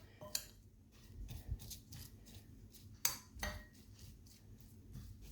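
Utensils clinking and scraping against a bowl while a tuna and bean salad is stirred and tossed, with a few sharper taps and a low hum underneath.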